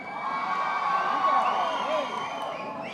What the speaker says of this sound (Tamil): எங்கள் சின்னத்திரை நயன்தாரா அக்காவிற்கு ஒரு பெரிய கைத்தட்டல்.